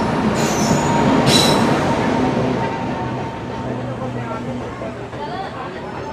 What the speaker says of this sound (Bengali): Shialda Rampurhat Ma Tara Express is arriving on platform number 5.